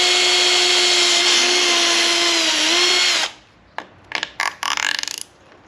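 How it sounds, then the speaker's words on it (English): A power drill whirs loudly and steadily for about three seconds drilling a 5mm hole on a Can-Am Spyder, then stops, followed by a few short clicks and rattling bursts. "So drill the hole right over there"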